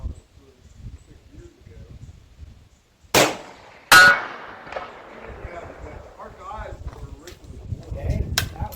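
Cast bullets from a Remington 700 rifle striking steel pig-shaped targets, two sharp, loud cracks a second apart, with faint talk and outdoor background afterward.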